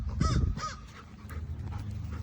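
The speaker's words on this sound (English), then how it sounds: "Oh, the bird is mad at you." An agitated crow caws harshly twice in quick succession close by, then quieter calls follow over low outdoor rumble, scolding a golden retriever that is trying to climb a tree after squirrels.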